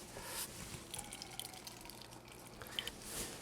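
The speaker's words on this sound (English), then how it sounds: "Or I can remove a little bit of the starch just by pressing, as you can see here, if I do this." Grated potato is squeezed by hand to press out starchy water, giving soft wet squishing and dripping sounds, close and fairly quiet, with no talking.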